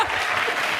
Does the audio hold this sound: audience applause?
yes